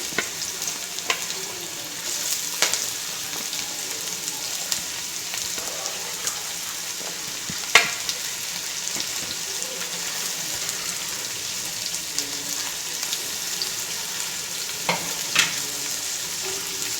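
Sliced large onions sautéing in a pan for a pepper chicken curry, a steady soft sizzle with occasional sharp spoon or spatula clinks against the pan, close and moderately quiet throughout with no talking.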